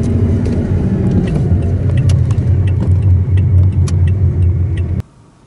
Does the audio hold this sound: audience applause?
no